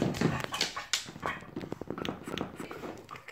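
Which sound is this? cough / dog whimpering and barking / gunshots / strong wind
dog whimpering and barking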